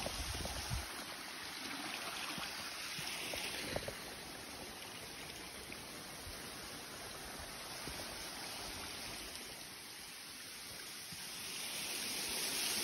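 Rushing water of the Reselets waterfall Skoka, a two-branched fall, forms a steady, full hiss that continues unbroken, swelling slightly toward the end, with no voices.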